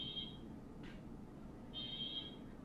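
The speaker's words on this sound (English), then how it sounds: "That's a fire alarm." Fire alarm heard in the Genshin Impact game, two short high-pitched electronic beeps separated by a pause, faint against a low background hum.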